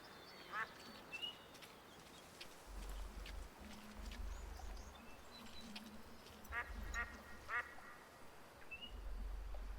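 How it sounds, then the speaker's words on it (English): Faint scattered wild duck quacks in the hunting game Way of the Hunter, over a steady low rumble, a few short calls spread out with quiet gaps, distant rather than close. "Yeah, just some wild ducks and the geese."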